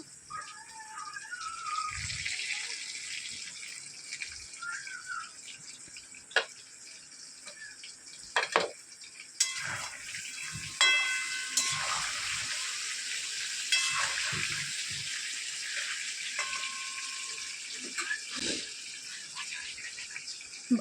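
Mutton fries in a pan with a steady low sizzle, joined by scraping stirs, occasional clatter and thumps, and brief bursts of running water.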